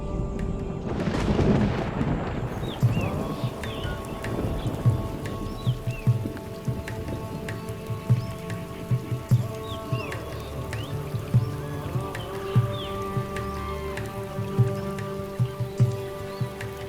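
Steady monsoon rain patters down in an Indian tiger jungle, with a low rumble early on and scattered peacock calls and chirps faintly in the background.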